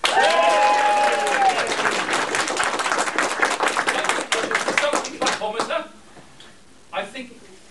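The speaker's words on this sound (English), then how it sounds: "And a round of applause for Tony." A convention audience at a tea dueling contest claps for a contestant, loud dense applause with vocal cheers early on, thinning into scattered claps and fading out near the end.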